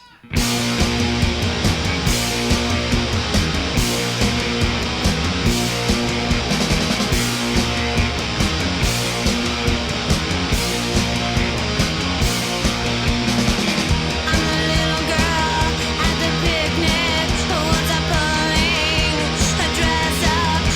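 Loud, dense 1993 punk rock song pounds along with driving drums and distorted guitars, a steady full-volume track throughout.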